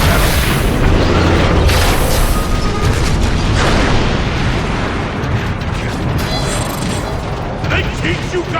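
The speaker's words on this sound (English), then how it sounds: "Grenade on the way out!" Grenade explosion in the video game Transformers: Fall of Cybertron, a loud, sustained booming roar with rumbling debris and mechanical clatter, set amid battle noise.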